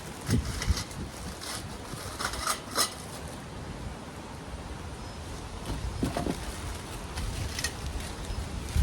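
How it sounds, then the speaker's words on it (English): Gusty wind buffets the microphone in uneven rumbling bursts outdoors during a walk-in greenhouse installation, with occasional light clinks and knocks mixed in. "Oh, it's a little windy today."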